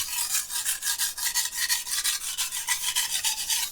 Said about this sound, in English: He's grinding and I'm trying to sharpen this.